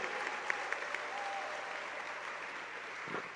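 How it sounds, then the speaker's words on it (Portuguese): Church congregation applauding together at a service, a steady wash of clapping that stays at an even level throughout, with a faint voice or tone briefly audible in the background. "Vamos aplaudir a Deus porque o diabo perdeu."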